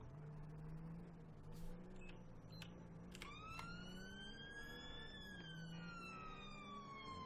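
A police siren wails and sweeps in pitch over a steady engine rumble in Grand Theft Auto V with the LSPDFR mod, with sharp electronic blips cutting in now and then.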